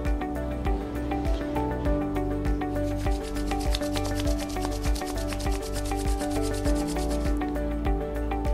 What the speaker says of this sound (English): Rub. Generate lot of heat.